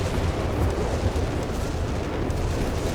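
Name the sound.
rocket artillery barrage in Company of Heroes 3 video game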